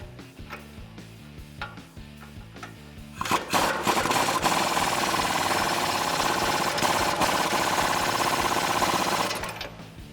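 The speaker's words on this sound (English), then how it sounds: "we can tighten this down with a 22 millimeter socket" A socket wrench with a 22 mm socket tightens a castle nut during a bolt-on suspension lift install on a 2007-2020 Toyota Tundra: a few light clicks, then a loud, sustained, rapid ratcheting rattle for about six seconds before it stops.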